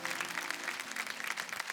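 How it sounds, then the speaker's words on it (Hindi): A studio audience at a folk singing reality show claps for a folk performance, a dense, fast patter of many hands that stays steady through the brief moment. "भाई जोरदार तालियां हैं इस एफर्ट के लिए"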